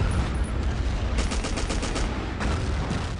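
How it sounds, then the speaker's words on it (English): Battlefield 1942 combat: dense rapid gunfire crackles throughout, with a busier burst of shots in the middle and another near the end, suggesting bazooka and rifle fire on a Gazala desert battlefield, no talking. "There you can see the bazookas firing into range."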